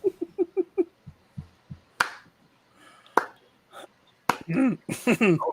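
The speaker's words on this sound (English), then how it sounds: "Slow clap." Several slow, evenly spaced hand claps ring out close by, with brief pauses between them, followed by a few louder bursts of noise toward the end.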